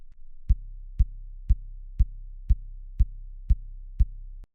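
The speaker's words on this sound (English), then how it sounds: "it's pitched up and down the keyboard so you can get a pitched kick drum for your track." A deep, pitched synthesized kick drum from Omnisphere, played low on the keyboard, repeating steadily about twice per second over a low droning tone, punchy and booming with nothing else around it.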